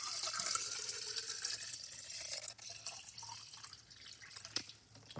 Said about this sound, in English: I'm here trying to fill the water bottle.